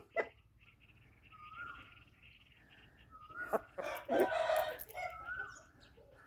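A Thai gamecock rooster crows a few times at moderate distance, the calls rising and breaking over a low steady background hum.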